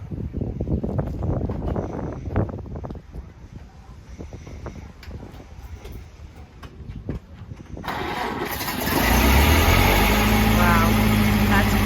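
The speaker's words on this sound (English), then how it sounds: "1929, starting right up. Isn't that incredible how it started?" A 1929 Ford Model A engine cranks over amid background chatter for several seconds, then catches near the end and settles into a loud, steady idle close by.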